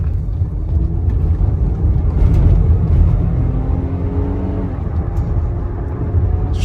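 Toyota Avalon accelerating from inside the cabin, a smooth engine hum climbing and dropping as the transmission shifts gears, steady and close with no talking.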